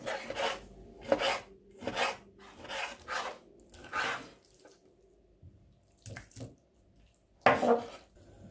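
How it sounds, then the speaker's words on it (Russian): Repeated knife strokes through raw chicken breast on a board, cutting small pieces, about eight short slicing bursts in an uneven rhythm, close and fairly quiet. "Остается небольшими кусочками нарезать куриную грудку."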